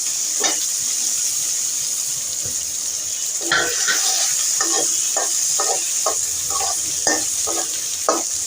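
Sliced potatoes and chopped onions fry in hot oil left from frying fish, a steady hiss running throughout while a spatula scrapes and stirs the pan in repeated short strokes, close and clear with no talking.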